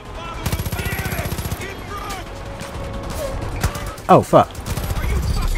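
Automatic gunfire in Far Cry 5, a fast rapid-fire burst up front followed by scattered louder shots, with a man swearing briefly over the action.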